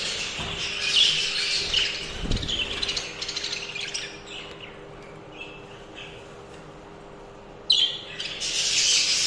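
Many small budgerigars (jumbo show budgies) chirp and squawk together nearby in a cafe, a busy chatter that thins out midway and then bursts back loudly.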